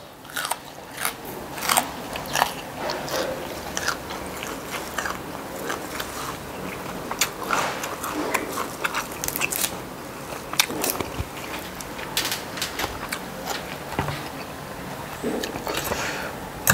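Fresh dill leaves and other raw vegetables chewed with loud, close, continuous wet crunching and biting, served alongside spicy southern Thai fish-organ curry and rice noodles, with no talk.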